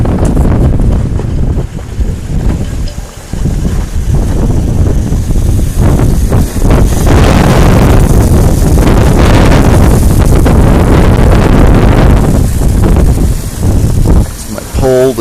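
Strong Hurricane Sandy winds roar and buffet aboard a boat, loud and relentless, with gusts battering the microphone and rigging noise beneath, while a voice speaks briefly under the din.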